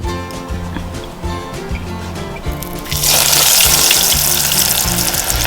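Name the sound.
onion rings frying in grapeseed oil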